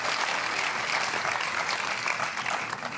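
A crowd at a pickleball match applauds steadily, a dense wash of clapping that holds for a few seconds without pause.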